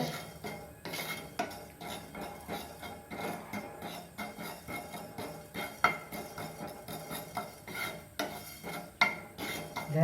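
Fenugreek seeds roasting in a pan, stirred with a metal spoon: quiet, irregular scraping and clinking strokes at close range, with no voices.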